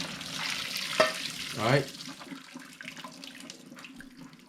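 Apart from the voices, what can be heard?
water draining from blanched zucchini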